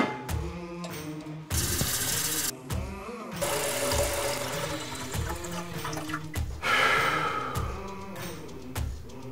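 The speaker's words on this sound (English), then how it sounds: "Our well pump isn't working, so that means we need to collect all the water out of the lines." Water drains out of a house's plumbing lines into a container, gushing and splashing in uneven bursts with gurgling and brief pauses, close and fairly loud.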